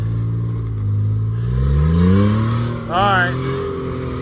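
An off-road truck with both lockers engaged, its engine revving up and down under throttle while locked in first gear; the steady engine drone swells and falls, with a voice briefly speaking over it.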